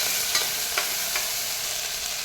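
Ginger, garlic and curry leaf paste sizzling as it is stirred in a hot pan, a steady frying hiss with a few soft spoon scrapes, close and alone.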